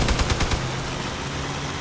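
Rapid bursts of heavy cannon fire from a combat vehicle in the Crossout video game, several loud close shots in quick succession early on before fading into a steady low rumble of engine and ambient noise.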